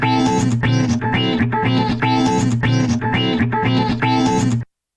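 A looping synth pattern runs through an Audiotool filter effect set to frequency 1782 and 87% resonance, giving a sharp, resonant sweep that repeats in even bursts for several seconds before stopping abruptly.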